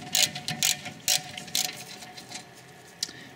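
A ratchet undoes a rear brake caliper bolt on a Dodge Grand Caravan, close-up bursts of rapid ratcheting clicks, four or five strong bursts followed by lighter, sparser ticks.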